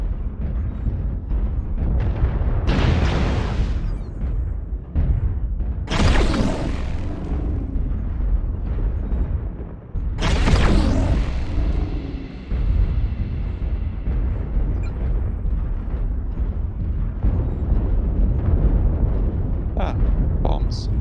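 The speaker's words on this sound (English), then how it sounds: "Ah, bombs. Post bombs." Bombs exploding in a mech combat video game, with several heavy booming blasts spread across the stretch amid steady game noise, while a player talks over much of it.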